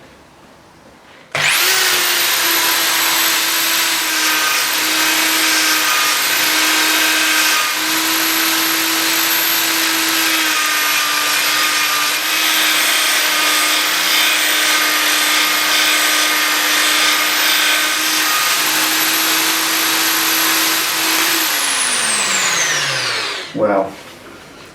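An auto drill bit sharpener grinds a large drill bit, a loud high-pitched motor whine with steady grinding that starts abruptly, holds continuously for about twenty seconds, then spins down and stops.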